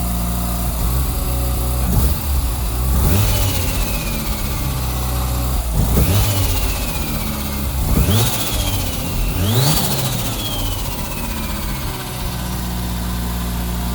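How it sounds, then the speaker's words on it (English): A Mazda RX-7 Turbo II rotary engine revs hard several times in quick succession on a midwinter cold start from storage, each rise in pitch falling back to a high idle, loud and close. "So I'm going to kick the throttle."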